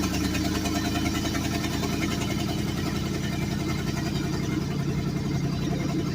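An engine runs with its exhaust going, a steady, loud, close idle with an even low rumble for the whole stretch and no talk over it.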